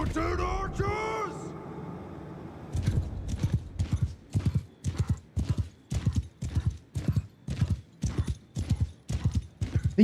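Several horses gallop under mounted archers in a video game: after a short spoken bit at the start, a fast, steady clip-clop of hooves drums loud and close for the rest of the clip.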